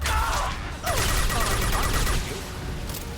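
Grenade blast and gunfire in the video game Mass Effect 2, a dense, loud burst of combat noise that holds steady for about two seconds, then eases into a lower rumble.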